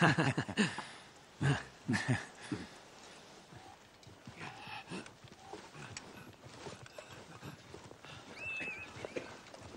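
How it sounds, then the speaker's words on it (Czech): Horses clip-clopping along at a steady walk, hooves thudding and rattling over a constant rumble, loudest at the start and then continuing more evenly. "To jsou koně."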